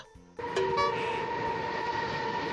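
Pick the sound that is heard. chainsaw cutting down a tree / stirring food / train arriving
train arriving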